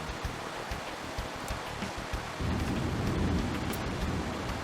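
Steady rain and rolling thunder from a Pokémon video game, a continuous stormy wash that grows heavier and louder about halfway through, with no talking.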